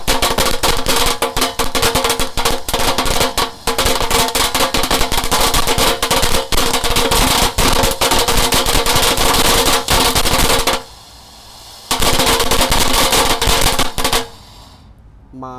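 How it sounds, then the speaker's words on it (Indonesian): A firework fountain burning inside a culvert crackles continuously in dense rapid pops, loud and close, with a brief lull before resuming and then dying away. "Kalau ini air mancur pretek ya, magical, ada bola-bolanya warna-warni bosku"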